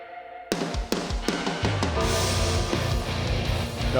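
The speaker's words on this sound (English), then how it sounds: "Program drums in the background." Punchy programmed drum hits kick in after a brief pause, steady kick and snare beats driving a dense music mix.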